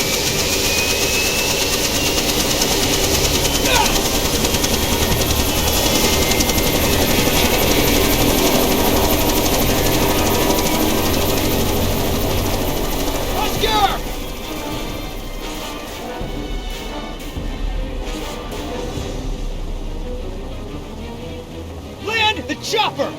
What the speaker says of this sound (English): The chopper!